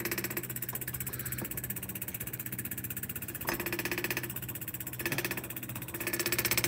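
An old engine runs steadily with a continuous rattling, pulsing idle, loud and close, its even rhythmic chatter holding throughout without voices.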